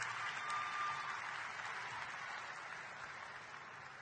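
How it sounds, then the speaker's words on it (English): A crowd at a commencement ceremony applauds steadily, a dense wash of clapping that gradually fades slightly over a few seconds. "Let's do a round of applause."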